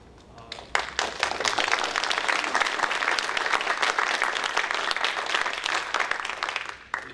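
A county legislature session audience breaks into steady, sustained applause that fills the room, dense and even from start to finish before tapering off.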